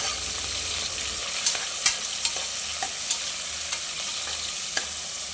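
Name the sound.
onions frying in ghee with spices for prawn biryani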